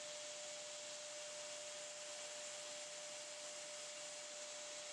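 A 2x72 belt grinder running a coarse grit belt against an epoxy resin knife handle casting gives a constant loud whirring grind with a steady high tone, unbroken and close throughout.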